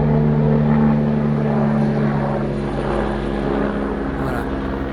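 A firefighting helicopter flying overhead near a wildfire, its steady rotor and engine drone loud and continuous throughout with a constant low throb.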